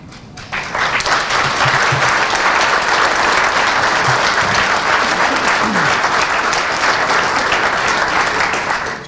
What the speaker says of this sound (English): these young people deserve a round of applause